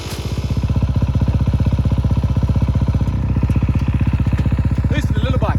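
A kids' motocross bike engine runs steadily after a kickstart, a close, loud, even throbbing putter, with people talking faintly over it near the end.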